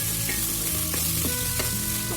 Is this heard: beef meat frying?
yes